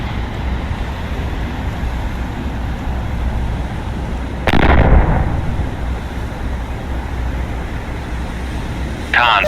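A vertical launch system missile fires from a warship in the Cold Waters naval game, a sudden loud roaring blast rising over steady engine and sea rumble, then fading, with another burst starting at the end.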